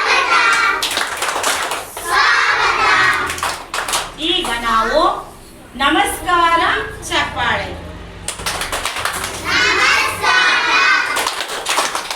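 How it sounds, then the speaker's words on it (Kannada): A group of children at a government school claps a welcome in quick rhythmic bursts, with young voices chanting and speaking between the rounds of clapping. "ಈಗ ಸ್ವಾಗತ ಚಪ್ಪಾಳೆಯನ್ನು ಮಾಡೋಣ ಎಂತ ಚಪ್ಪಾಳೆ"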